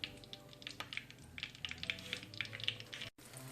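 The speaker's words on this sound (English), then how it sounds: "It's not sizzling quite like I want it to" Soft, crackling sizzle of pork chops frying in a pan, light pops scattered over a quiet background.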